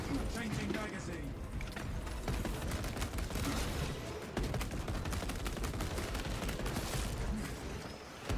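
Rapid bolt weapon gunfire in Space Marine 2, a dense continuous barrage of loud shots with mechanical clatter, layered over battle noise and game sound effects throughout.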